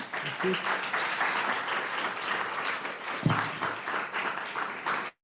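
Sustained applause from a civil rights conference audience greets David Turk, a dense, steady wash of clapping that holds evenly for about five seconds before stopping abruptly.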